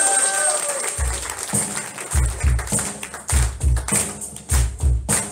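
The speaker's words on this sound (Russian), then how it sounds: "Аплодисменты воскресшему живому Спасителю!" Church congregation applauding in bursts during an Easter service, rhythmic rounds of clapping rising and falling several times, fairly close and loud with some voices underneath.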